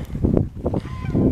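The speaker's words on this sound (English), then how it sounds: "There's wren and willow, our last year's geese that hatched out at the last of the year" Young geese named Wren and Willow, hatched late last year, give a few close, loud honking calls in quick succession on a spring homestead.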